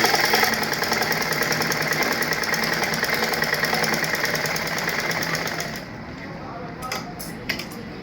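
A sewing machine stitches the lining of a blouse, running in a rapid, even mechanical rattle close by, then stopping near the end, leaving a few light clicks and taps.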